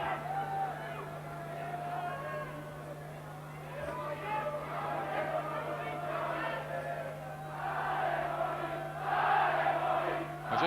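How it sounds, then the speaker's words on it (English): A boxing crowd roars behind the fighter Chanet in a sustained, swelling din that builds louder toward the end, with a commentator talking over the noise and a steady low hum underneath. "Just listen to this crowd getting behind Chanet."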